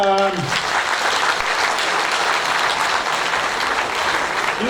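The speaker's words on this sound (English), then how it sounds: "can we have a round of applause?" An audience at a university research week opening keynote breaks into steady, sustained applause that fills the hall, dense and even throughout, with a brief tonal sound at the very start.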